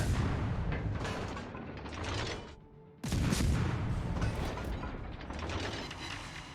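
Warship main guns firing in a naval battle video game, with loud dense mechanical bursts and booms that stop for a beat and then resume at full strength.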